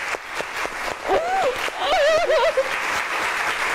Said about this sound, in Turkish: Hadi Özlem'i alkışlarla alalım stüdyomuza.